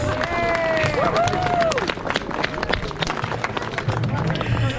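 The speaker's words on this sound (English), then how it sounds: "Give yourselves a round of applause." A rally crowd at a Cumbria Action Rally against digital ID applauds loudly in a sustained, dense wash of clapping, with scattered voices and cheers mixed in throughout.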